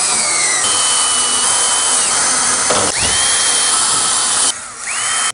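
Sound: power drill fastening a ceiling inlet to the ceiling

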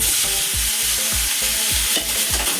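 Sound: onions frying in oil with bay leaves

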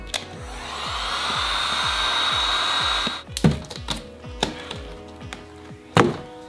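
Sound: heat gun loosening adhesive on a BMW foam panel

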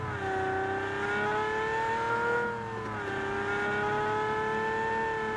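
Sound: car accelerating in a video game

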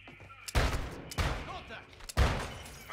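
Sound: gunfire in video game Call of Duty

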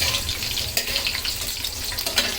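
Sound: chili frying in oil

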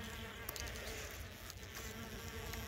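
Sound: mason bees buzzing as they emerge from cocoons

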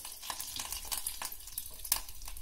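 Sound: tempering spices and curry leaves frying in a pan

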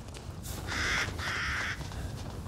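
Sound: crows cawing in video game Resident Evil Village

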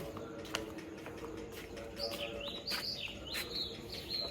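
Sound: sparrows chirping

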